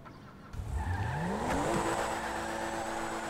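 A Tofaş car in GTA 5 starts up and pulls away, its engine note rising as it accelerates, loud and close, with a brief tire squeal and no voices.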